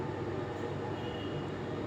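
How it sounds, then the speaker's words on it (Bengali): A metro rail train at a station gives a steady low rumble and hum, fairly faint and unbroken through the short stretch, with no clear talk. "ট্রেনটা আইসা থামছিল, আবার চলে গেল।"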